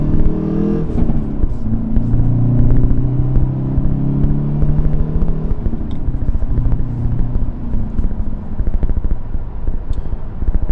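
The engine of a Hyundai Veloster N drones loudly from inside the car as it accelerates on the road, its pitch climbing steadily and then settling after a shift into a continuous rumble.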